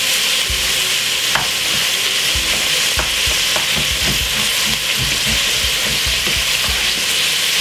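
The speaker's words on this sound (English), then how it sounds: "Give it a quick stir." Cabbage and peppers stir-fry in a hot pan, a loud steady sizzle broken by repeated scraping stirs and clatter from a utensil.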